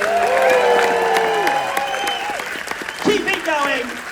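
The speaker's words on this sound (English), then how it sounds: "Please give a massive, grateful round of applause to Paul, Ian, Greg, and" A large festival audience at FrightFest horror film festival breaks into sustained applause and cheering, dense and loud throughout, with voices whooping and shouting over the clapping.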